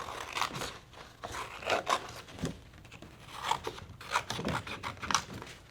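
Scissors cutting paper for a lapbook pocket, a close series of quiet snips and rasping slices in an irregular rhythm, with no talk.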